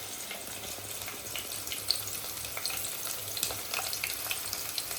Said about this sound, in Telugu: పచ్చిమిర్చి, ఇక క్యారెట్ మొత్తం వేసి కొంచెం గోల్డ్ కలర్ వచ్చిన దాకా వేయించాలి